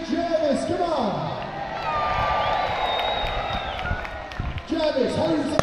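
A lakeside crowd at a staged mock naval battle cheers for the ship Jervis Bay, a broad roar of voices and whoops swelling through the middle, with an announcer's amplified voice at the start and end.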